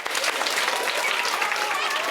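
An audience at a Christmas song performance bursts into applause, a thick sustained patter of many hands clapping together, steady and close throughout.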